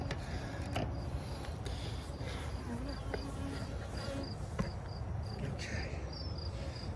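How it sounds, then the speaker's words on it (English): Honey bees buzzing around backyard hives after a honey harvest, a dense, steady outdoor hum filling the air at moderate loudness with scattered nearer bees passing by and faint chirps over the drone. "bees are poured out of Steve's hives"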